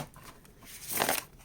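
Soft, quiet riffling and sliding of a deck of oracle cards being shuffled, swelling into a brief papery burst near the end.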